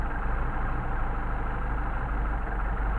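A Mercedes 190SL engine idles steadily with a Solex 44PHH carburetor as the mixture screw is turned back in, a continuous close low rumble with a constant hum and no talking.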